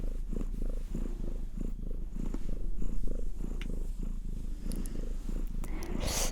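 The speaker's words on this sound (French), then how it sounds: "c'est un chat type Maine Coon" A young Maine Coon cat purrs close up, a steady rhythmic rumble pulsing with each breath, alone and unbroken.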